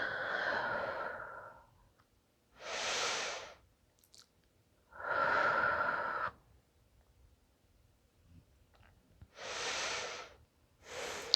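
Slow, deep breaths in and out during gentle yoga in bed, each airy breath lasting about a second and separated by quiet pauses, close to the mic.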